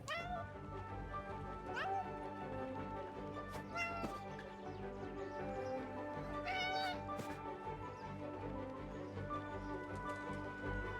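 A cat meows several times in the video game 11-11: Memories Retold, each a rising, drawn-out cry heard over a continuous backdrop of in-game music and ambience.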